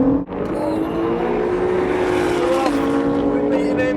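A Honda NSX and an Audi TT RS accelerate hard side by side in a drag race, with loud rising engine and wind roar and gear shifts, close and continuous.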